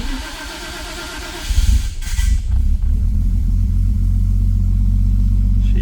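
A freshly rebuilt RB26 engine in a Nissan Skyline GTR R34 cranks, fires with a loud burst, and settles into a steady, deep, rumbling run nearby with no voices.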